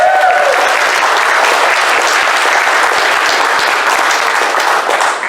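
Loud, dense applause from a conference audience for a panelist, a sustained roar of many clapping hands that stays even and close from start to finish.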